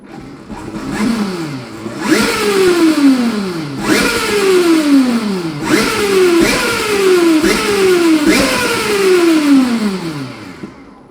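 A tiny car with a high-torque engine producing 1000 Nm revs repeatedly, each loud close burst climbing then dropping in pitch in a steady rhythm of about six pulls, with no talk over it.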